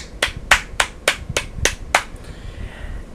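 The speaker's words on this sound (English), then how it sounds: "I'm going to do one more applause" Seven sharp hand claps in an even, deliberate rhythm, close and crisp, followed by a short quiet tail.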